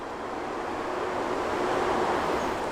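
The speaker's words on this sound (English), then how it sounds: "This is the sound of the area in southeast Newport News where Donquita and Lawrence used to live." Steady outdoor ambience in an industrial-zoned part of southeast Newport News near a coal terminal: a continuous broad rumbling wash like distant machinery or traffic, fairly faint, with no voices.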